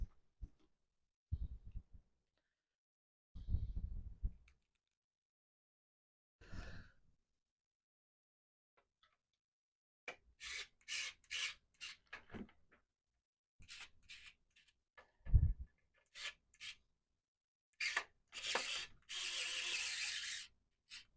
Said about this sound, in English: Just quickly screw these bad boys in.